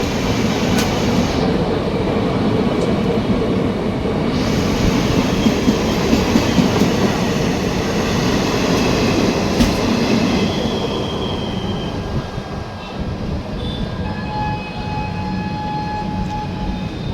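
Double-decker express train number 22626 to MGR Chennai Central runs steadily on the rails, a continuous loud rumble with rhythmic wheel clatter and occasional faint squeals, heard from on board, with no voices.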